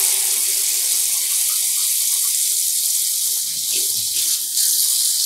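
Cold water pours steadily from a tap in a continuous close hiss and splash for several seconds while dyeing cotton yarn at home.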